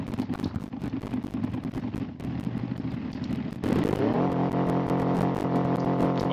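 A sports car in BeamNG starting off in fourth gear on a slippery surface, the engine labouring with a clattering, pulsing drone before revving up into a steadier, louder tone, with no talking.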